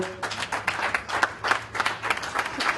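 Small audience at the launch of a solar carport clapping in scattered, uneven bursts, a handful of hands beating fairly close and moderately loud, the rhythm loose and slightly pulsing.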